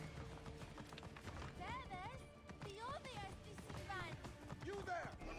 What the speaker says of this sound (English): Need a horse to catch up to them, I think.